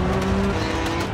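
Radio-controlled cars race flat out along a stadium straightaway, a loud continuous motor whine with steady tonal hum and tire noise filling the short burst.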